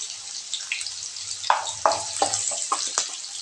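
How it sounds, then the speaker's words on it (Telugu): Thinly sliced onions, green chillies and tempering seeds fry in hot oil in a pan, a soft steady sizzle broken by a few sharper crackles and pops. "గోల్డ్ కలర్ వచ్చేదాకా వేపుకుందాం."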